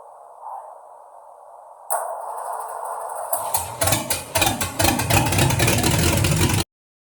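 A Ford Falcon engine cranks over, catches and runs roughly, its uneven pulsing exhaust loud and close before cutting off abruptly, following a quieter electrical hum and switching sounds.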